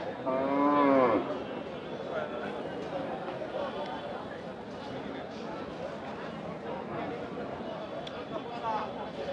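Cattle at a livestock market: one loud, close bovine moo opens the recording, then continuous crowd chatter and market bustle carry on underneath.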